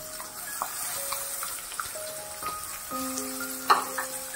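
Crushed onions hit hot oil with garlic in a pan, giving a soft, steady sizzle and crackle close by, with occasional faint clinks and pops and no talking.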